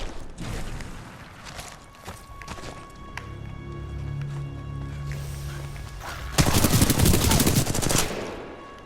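Small pistol gunfire in the video game Titanfall 2: sharp, scattered shots over game ambience, then a loud, dense burst of rapid fire near the end.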